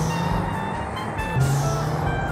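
A modded Honda Civic in GTA San Andreas, using the game's stock engine sound, drones with a steady, close, buzzing hum and a slight lift in pitch partway through.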